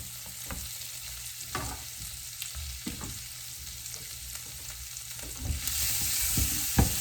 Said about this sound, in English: And I will put in the same oil our onion and broccoli.